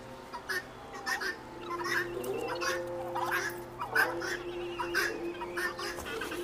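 Poultry with long, trunk-like necks call out in repeated throaty, gobbling bursts at the Sri Lalithambika temple grounds in Jadcherla, close and steady over a low background hum, with faint voices at times.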